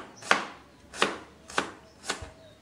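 A knife thinly slices shallots and garlic on a cutting board, giving four evenly spaced, crisp chopping strokes that ring out clearly and close up, with no voices.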